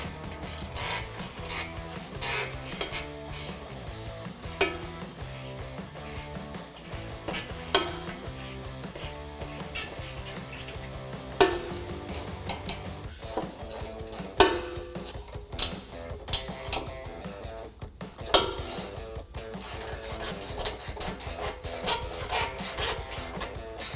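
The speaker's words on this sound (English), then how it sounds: "Now we can tighten down the bull bar hardware with the same 18mm wrench and 18mm socket." A ratchet wrench with an 18mm socket clicks repeatedly as it tightens bull bar bumper hardware on a 2018 Jeep Wrangler JL, in quick runs of ratcheting with scrapes and metal knocks between strokes.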